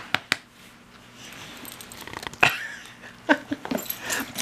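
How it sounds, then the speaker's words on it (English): A female dog whimpers and makes soft yips and small growling noises close by, in short irregular bursts with quiet gaps between them and no talking. "Look at that doggy."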